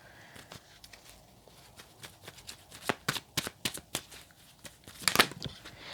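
Tarot cards are shuffled and drawn during a reading: a quiet series of quick papery riffles and soft taps that grow denser and a little louder toward the end, with no talking.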